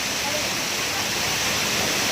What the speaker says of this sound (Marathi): पाणी इथं जात आहे हळूहळू